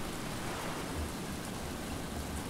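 Rain pours in the survival game Stranded Deep, a continuous even hiss of falling drops with a faint low rumble beneath, and no voices.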